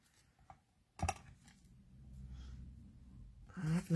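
Scissors snipping paper leaves for a craft project, a sharp close cut followed by faint rustling, then another quick snip near the end in a quiet room.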